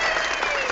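A brief, close burst of dense hand clapping from a few people.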